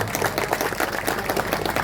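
Audience applause for a motivational speaker's tribute, a dense burst of many hands clapping together, steady and fairly loud throughout the short moment.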